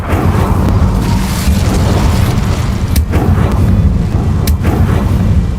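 A loud, sustained roaring fire blast from the Incendio spell in Hogwarts Legacy, a dense booming rumble filling the whole stretch with a couple of brief sharp crackles on top.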